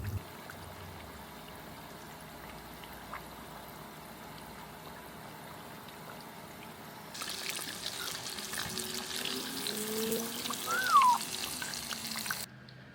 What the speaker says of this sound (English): I'm about to deep fry it in that beef tallow.